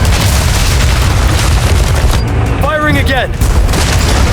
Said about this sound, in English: But you can control the cannon, so it's 10 times better.